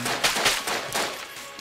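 Rapid gunfire in the video game Enter the Gungeon, a dense burst of repeated shots fired in quick succession, loud and close, with no talking.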